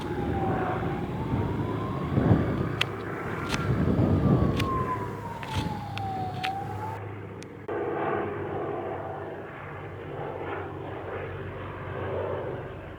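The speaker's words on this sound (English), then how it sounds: "Just plane after plane after plane." A low jet engine roar passes steadily overhead in rural Portugal, joined briefly by a distant wailing siren, with no talking.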